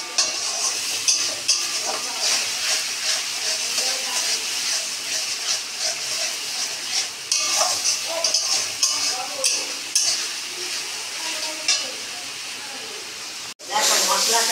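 Bengali spice paste for onion pomfret sizzles and hisses in a hot pan as it is sautéed, a steady frying crackle with occasional stirring and utensil clinks, close up, with no talking.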